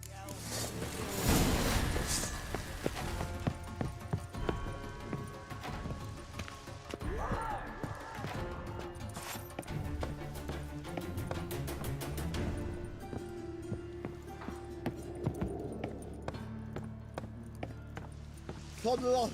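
Galloping horse hooves in The Witcher 3 video game, a steady clip-clop rhythm running through most of the stretch, mixed with game music and voices talking over it.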